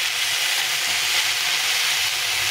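Whole tomato frying in a pan for a bitter gourd fish curry gives a steady, close, even sizzling hiss that holds without pause, with no talking.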